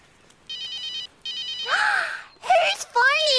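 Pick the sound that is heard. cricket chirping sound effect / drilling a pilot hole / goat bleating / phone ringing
phone ringing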